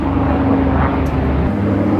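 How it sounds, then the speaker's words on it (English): A police helicopter passes overhead outdoors, its steady low rotor and engine drone loud and continuous, with a constant hum throughout and no talking. "yeah, helicopter was over. I think it's a cop helicopter."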